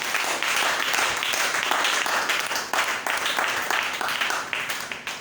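Church congregation applauding together at a French-language Bible seminar, a dense steady wash of clapping held at even loudness for several seconds and easing slightly toward the end.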